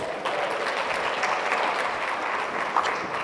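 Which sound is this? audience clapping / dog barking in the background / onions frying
audience clapping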